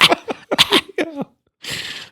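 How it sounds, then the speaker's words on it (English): A person coughs: several short, choppy vocal bursts come first, then a pause, then one harsh, breathy burst up close. "I got a cough."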